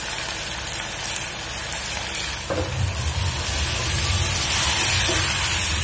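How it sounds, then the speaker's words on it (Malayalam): Ground spice paste hits hot oil in a pan for a meatless fish-style curry, giving a steady broadband sizzle that swells louder after a clunk midway and keeps hissing evenly, close and with no voices. "അരപ്പ് ചേർക്കുകയാണ്."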